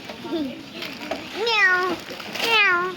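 A person imitates a cat with two drawn-out meows in a row, close and clear, after a softer vocal sound at the start.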